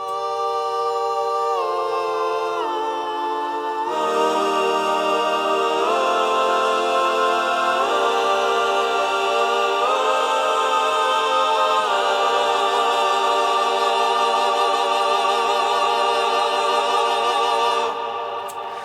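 An isolated sung vocal line with heavy vibrato, stripped of its backing synths, holds sustained notes that step between pitches, loud and unbroken for nearly twenty seconds.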